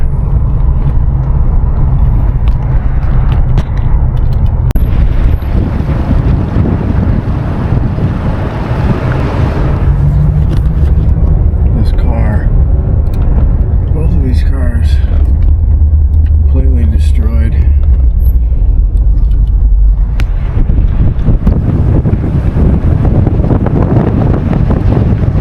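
A car drives slowly down a hurricane-damaged street after Hurricane Helene, a loud, continuous low rumble of engine and tires mixed with heavy wind buffeting the microphone, with a person talking over it.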